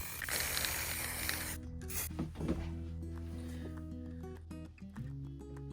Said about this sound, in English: I'm just gonna spray it a little bit longer